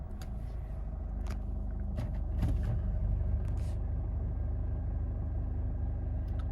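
A Chevrolet Captiva diesel with a P2463 particulate filter soot accumulation fault idles steadily after being switched on, a continuous low engine rumble that swells slightly partway through, with a few faint clicks and knocks and no talking.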